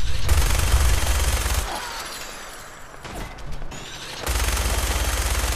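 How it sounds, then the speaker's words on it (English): Gunfire from a weapon in the video game Fallout 4, loud rapid bursts near the start and again at the end, with a quieter stretch of mechanical clatter and crashes between them. "I can so blow up the world with this gun"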